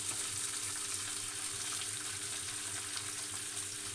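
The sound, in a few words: sanangi leaves added to frying pan for tomato chutney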